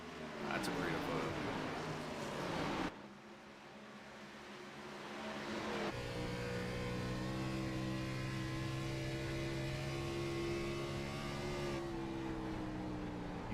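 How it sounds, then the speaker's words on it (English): A race car engine in the Roblox racing game at a Dover track, its steady tonal drone rising and holding pitch along the straightaway, loud and continuous with a brief drop midway. "You can kind of hear the sound of the car when they get up onto the straightaway."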